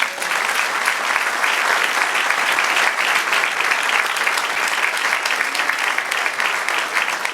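A church congregation applauds during a sermon, sustained dense clapping filling the room, loud and steady with no speech over it.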